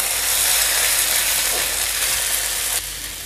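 Soaked sabudana is stirred into cooked potatoes in a hot pan for sabudana khichdi, producing a loud, dense sizzle with rough scraping that drops off suddenly near the end.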